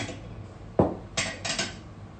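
Dinner plates for the main course clink and knock as they are handled at a formal table setting, one solid clatter followed by two lighter ceramic taps, close and clear with no talk.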